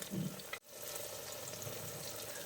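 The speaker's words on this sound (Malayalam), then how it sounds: "നന്നായിട്ട് എണ്ണയിലിട്ടൊന്ന് വറുത്തെടുക്കാം" Tuna pieces frying in hot oil give a steady, soft sizzle that runs throughout, briefly interrupted near the start by a dip and a low thump, fairly faint and without talk.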